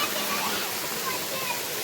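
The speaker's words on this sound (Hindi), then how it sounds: "ऐसी हैं माड़ा की गुफाएं और उसके पास बने हुए प्राकृतिक झरना" A natural waterfall spilling down from the hills beside the Mara caves sends up a steady, even hiss of rushing water. The roar stays constant and fairly close throughout, with a faint voice underneath.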